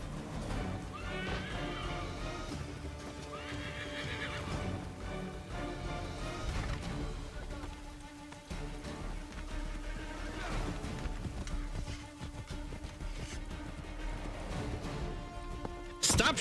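In a video game, a horse whinnies and its hooves clatter in a steady galloping rhythm, heard under a bed of game music and effects for the whole stretch, with little talk.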